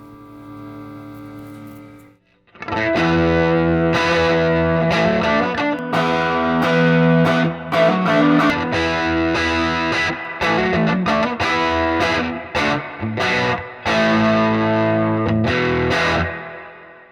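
A guitar plays through a Fender '68 Custom Vibro Champ Reverb amp turned all the way up, with a loud, driven, distorted tone. It starts with a brief held note, then a short gap, then continuous strummed chords and riffs with no talk.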